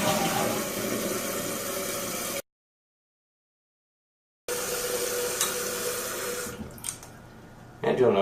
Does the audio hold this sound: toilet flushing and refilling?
yes